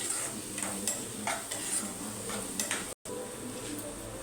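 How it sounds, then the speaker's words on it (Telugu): Egg bhurji with chopped chili and turmeric is stirred in a pan, making a constant sizzle with repeated light scrapes and taps from the spatula and a brief cut-out midway. "ఇప్పుడు కొంచెం పసుపు కూడా వేసుకోవాలి, కలుపుకోవాలి."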